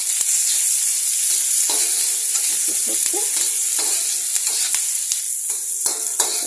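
Chopped onions and green chillies fry in hot oil in a pan, hissing in a constant close sizzle, while a spatula stirs and taps against the pan in repeated short scrapes. No one talks.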